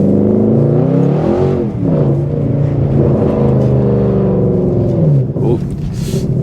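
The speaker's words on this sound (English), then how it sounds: "there's certain people in the area who wanted to hear a straight pipe C63" A Mercedes C63 AMG saloon fitted with a straight-pipe exhaust revs loudly and close by, its deep, rasping engine note rising and falling through several throttle blips, with a voice speaking over part of it.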